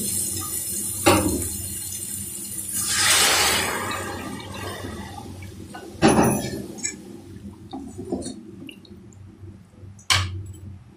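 Water is poured into a pan of spices frying in oil while making besan sabji, giving sizzling, splashing bursts with a louder hiss early on and sharp clattering hits from a utensil at intervals.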